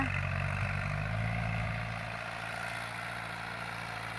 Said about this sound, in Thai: หลังจากที่เราหว่านเสร็จแล้วเราก็จะใช้รถไถปั่นนะคะ